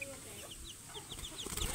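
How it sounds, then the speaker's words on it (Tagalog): Two-week-old pet chicks and hens in a coop giving soft, quick peeping chirps and light clucks, several short repeated calls against faint background noise. "At ito po yung alaga natin mga ibang manok, no?"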